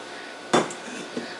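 A single scrape and clunk as blueberry coffee cake batter is pushed from a mixing bowl into a baking pan, followed by a fainter knock, close and quiet with no talking.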